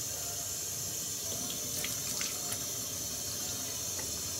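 Tap water runs steadily into a bathroom sink during face washing, a continuous close hiss and splash with no voices.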